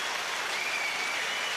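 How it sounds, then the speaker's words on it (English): Fans applauding in a stadium during a 2013 rugby World Cup quarter-final between Fiji and Samoa, a steady broad wash of distant crowd clapping throughout. "you hear the applause there as the fans in the stadium see that on the big screen"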